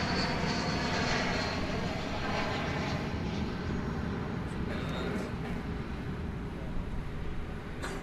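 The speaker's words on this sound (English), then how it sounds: "It's an Airbus A321." An Airbus A321 arriving at DFW Airport at night, a broad steady jet engine roar filling the air at moderate distance, continuous and even throughout.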